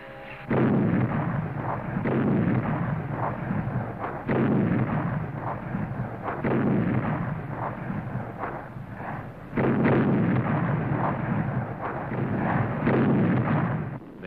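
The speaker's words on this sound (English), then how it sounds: "Australian heavy artillery began to bombard the Japanese anti-aircraft defenses on Buka Island" Heavy Australian artillery bombards Japanese anti-aircraft defenses on Buka Island in World War II, a relentless series of booming blasts and rumbling roars repeating every couple of seconds, loud and dense with no voices.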